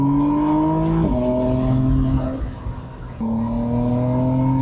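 A McLaren Artura Spider sports car accelerating on a foothills road, its engine rising in pitch through several gears with brief dips at each shift, loud and close throughout.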